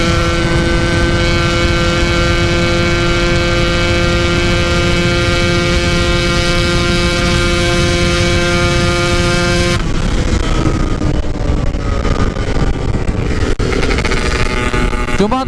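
A Yamaha RX King motorcycle with an OS 150 porting block races at top speed, its engine a loud sustained drone that rises steadily in pitch, then drops and climbs again after a gear change.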